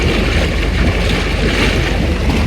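A mini pool spa running its air-bubble-only mode, with jets producing a loud, steady, close rush of bubbling water and hiss that keeps going without a break and no voices.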